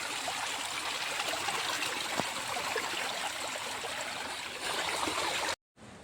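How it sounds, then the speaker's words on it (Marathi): A mountain spring stream in the hills gurgles and trickles in a continuous close wash of running water, then cuts off abruptly near the end. "झऱ्याची खलखल सतत कानावर पडत होती"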